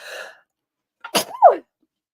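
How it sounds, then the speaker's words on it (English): A single sharp sneeze, close and clear, with a quick intake of breath before it and a brief rustle just before that. "I'm going to sneeze."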